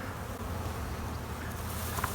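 Honey bees crowd a queenless cell-starter colony, a dense steady close-up hum filling the whole short stretch with no pauses.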